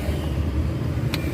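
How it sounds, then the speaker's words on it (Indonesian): Buses turning onto a toll road toward Surabaya give a steady low engine rumble and road noise, heard from nearby and continuous, with a brief faint click near the end. "Nah, 2 bis sudah belok ke kiri, masuk ke jalan tol jurusan Surabaya."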